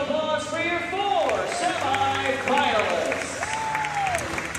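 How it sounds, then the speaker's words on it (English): A crowd applauds four semi-finalists at a competition, steady clapping mixed with cheering and a voice speaking or calling out over it. "Ladies and gentlemen, big round of applause for your 4"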